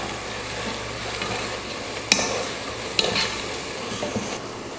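Ground masala for mutton biryani sautés and sizzles in a pan, with a spatula stirring and scraping and two sharp clinks against the metal, moderately close.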